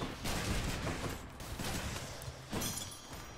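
Bombs explode in the video game Hades, a quick volley of crackling bursts at moderate loudness, one after another over a few seconds.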